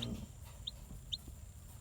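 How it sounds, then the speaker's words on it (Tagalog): A newly hatched chick in a homemade bucket incubator gives three faint, high peeps spaced apart over a low background hum. "may papalabas na naman, isang sisiw"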